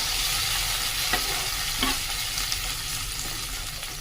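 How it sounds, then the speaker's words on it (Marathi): Chopped onion sautéing in a pan with mustard seeds, cumin, green chillies and curry leaves, giving a steady, close sizzle with a few faint scrapes of stirring, no talking. "कांदा थोडा परतून घेऊया"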